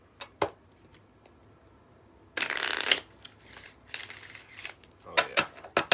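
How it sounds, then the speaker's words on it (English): A chakra tarot deck shuffled close up, with a few quick riffling bursts and sharp card snaps and taps between them, quiet and without talk. "So let's shuffle up this chakra deck."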